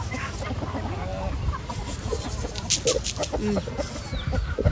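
Chickens cluck in short, scattered bursts close by, with a few higher peeps mixed in over a low farmyard rumble and no clear talk.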